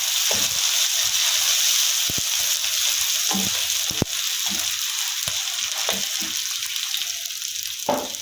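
Garlic, ginger and green chili paste frying with onions in a hot pan, a steady loud sizzle with occasional stirring knocks and scrapes throughout, no voices.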